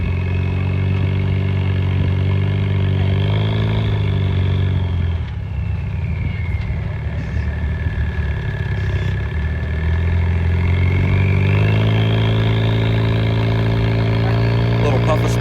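A rock crawler's engine works on the Behemoth Drivetrain A1 course at a rock crawling competition in Bagdad, Arizona, a loud steady drone that dips, then revs and climbs again as the vehicle climbs near vertical.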